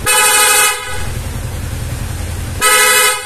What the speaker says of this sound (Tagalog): meron din nagpakabit siya ng stock horn